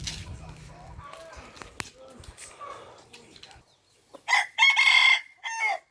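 A bantam rooster clucks softly at first amid faint voices, then lets out a loud, close crow in a few strong bursts near the end.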